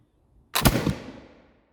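A single .75 caliber black powder musket fired outdoors, one loud sharp blast with a brief double crack and a rumbling tail that fades over about a second.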